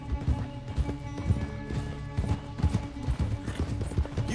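Horse hooves galloping in the game Red Dead Redemption 2, a fast rhythmic clip-clop of repeated hoofbeats running throughout, close and fairly loud over faint background music.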